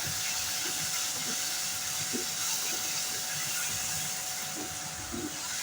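Steady sizzling hiss of vegetables for spaghetti stir-frying in a pan over high flame, continuous and fairly loud, with faint scraping knocks now and then and no talking.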